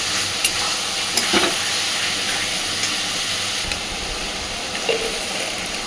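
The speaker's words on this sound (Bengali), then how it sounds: "গ্যাসের ফ্লেমটাকে মিডিয়াম টু লোতে রেখে মশলাটাকে কষতে থাকবো" Spices sautéing in a pan over a medium-low gas flame for a fish-head muri ghonto, a loud, steady sizzle with occasional stirring scrapes, close up.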